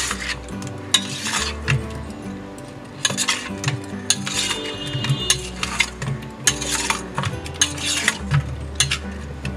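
Chili paneer ingredients tossed with vinegar in a bowl, giving repeated close-up clinks of utensils against the dish and squelchy mixing sounds in irregular bursts, with no talking.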